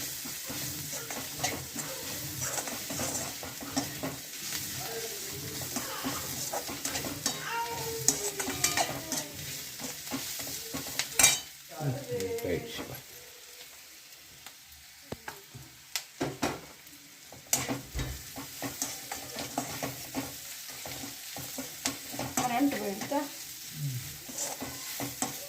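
Onions sautéing in a pan for vegetable pulao give off a soft, steady sizzle with occasional stirring scrapes and clinks, fairly quiet, with a few brief breaks and a faint voice at times.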